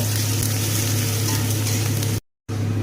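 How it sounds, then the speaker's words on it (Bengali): Ginger paste fries with onion and garlic in a pan, a loud, steady, dense sizzle with stirring scrapes, broken by a brief silent gap near the end. "আদা বাটাটাকেও ভালো করে পেঁয়াজ আর রসুনের সঙ্গে কষিয়ে নেব।"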